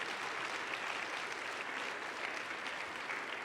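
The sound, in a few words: congregation applauding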